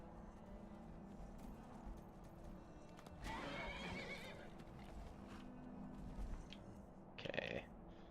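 In the video game Skyrim, a horse's hooves clop in a steady rhythm. Partway through, the horse lets out a loud, drawn-out whinny, followed by a shorter snort near the end. The sounds are fairly quiet overall.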